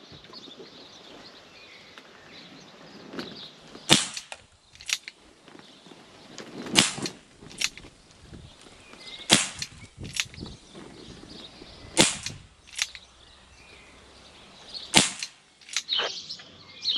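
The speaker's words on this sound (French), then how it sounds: "On vient refermer et on va se le faire en simple action." A series of sharp, loud shots from a Smith & Wesson 629 Magnum revolver with a 6.5-inch barrel, fired single action, spaced a few seconds apart, each with a brief echoing tail over quiet outdoor background.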